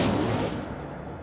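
An Incendio fire spell cast in Hogwarts Legacy lets out a short, loud burst that starts at once and then fades over about a second, with no voices over it.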